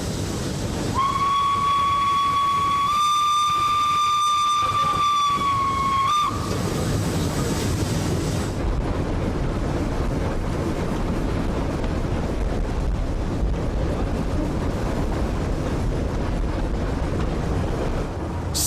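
SNCF 231 K 8 Pacific steam locomotive running at speed, a long steady whistle sounding over loud rushing rail and wind roar, then continuous heavy rumbling travel noise.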